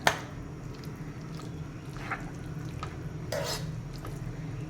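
Marinated mushrooms being stirred into sautéed onion and capsicum in a pan, soft squishy scraping with a few light utensil clinks, quiet and close.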